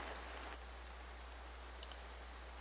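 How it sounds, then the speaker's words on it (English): Steady rain falls outdoors in the Rockies, a soft, even hiss with faint scattered drops, quiet and continuous without any voices. "fighting with this background sound, the rain."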